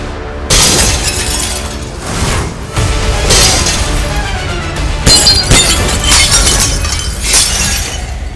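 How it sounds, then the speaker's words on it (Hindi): Glass smashing and shattering loudly in repeated crashing bursts with a scatter of tinkling fragments, close and alone with no voices. "कांच टूट गए।"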